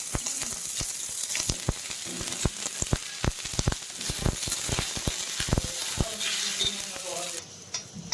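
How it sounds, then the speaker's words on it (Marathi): Chopped onion frying in oil in a pan for a green chili masala chicken curry, a steady close sizzle broken by frequent sharp clicks and scrapes of stirring, with no talking. "एकदम लालसर कांदा भाजून घ्यायचा तर कांदा थोडासा भाजून झालेला आहे आता थोडंसं तेल टाकून घेते"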